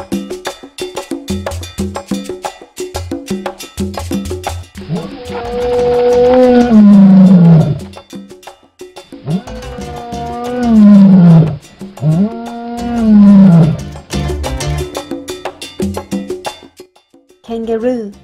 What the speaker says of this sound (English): Lioness.